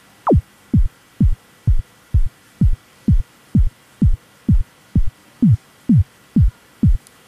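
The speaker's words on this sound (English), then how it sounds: "we can move these around until we get a basic kind of kick sound" A kick drum synthesized in Ableton Live thumps in a steady, evenly spaced series of about fourteen deep, punchy hits with pitch-dropping attacks, loud and alone.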